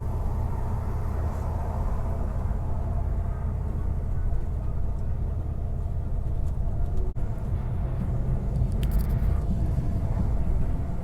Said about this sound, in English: today I'm getting a bus to Bishkek in Kyrgyzstan